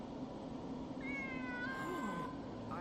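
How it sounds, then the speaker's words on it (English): Cat meowing once, a clear drawn-out meow rising then falling, fairly quiet over a steady low background hum. "I was told that under Yushiro's spell, it would be invisible until it meowed"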